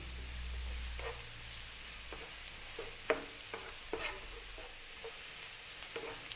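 Chopped onion and garlic sauté in a pan over medium heat for an Italian chicken tomato sauce, a soft steady hiss broken by spaced scraping stirs and a few distinct utensil knocks, fairly quiet and close.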